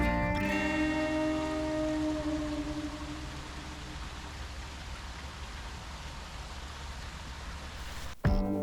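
Steady rain on a harbor seawall in Prince Rupert, British Columbia, makes a constant wash of hiss and patter. A fading tonal hum at the start dies away, and a brief knock sounds near the end.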